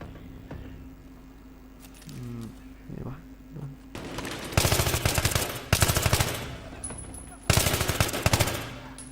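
Automatic gunfire in the Battlefield 3 video game, loud bursts of rapid shots in several volleys, with quieter scattered sounds and brief voice-like noises before the firing begins.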